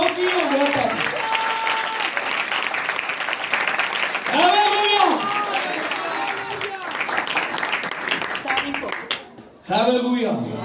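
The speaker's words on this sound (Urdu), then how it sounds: "زور دی تالی دے جاؤ" A church congregation breaks into loud, sustained applause that fills the room while a preacher's voice rings out over the clapping.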